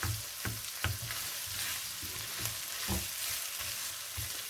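Ground beef for a meat pie sizzles steadily in a pan while being stirred, with repeated scraping strokes of the spoon against the pan over a constant close, moderate frying hiss; nobody speaks.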